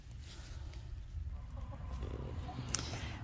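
Jersey Giant chickens cluck softly outdoors, faint and close amid low rumbling background noise, with a brief sharper call near the end and no voices.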